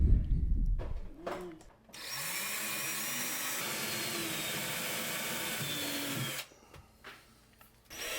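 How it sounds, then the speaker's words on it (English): A right angle drill drives screws under a shelf: a sustained high motor whine with a shifting pitch runs for several seconds, bracketed by brief clunks and handling noise before and after. "So to the rescue comes a right angle drill, and it fits just fine underneath that shelf."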